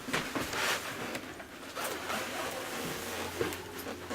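A clothing zipper pulled several times in quick rasping strokes, close and fairly loud, with no voices over it.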